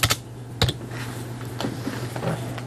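Keystrokes on a computer keyboard come as a few sharp, close clicks followed by softer, scattered taps over a low steady hum, with no talking.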